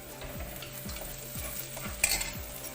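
Green chilies frying with golden-brown onions in a pan for prawn masala, a steady sizzle under repeated rhythmic stirring scrapes, with a brief louder clatter near the end.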